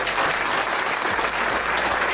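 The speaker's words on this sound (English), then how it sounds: "Let's give Brother Jew a round of applause." A live audience gives a sustained round of applause at a sports talk show, dense, even clapping with crowd noise continuing steadily throughout.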